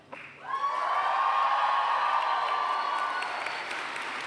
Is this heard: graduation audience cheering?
yes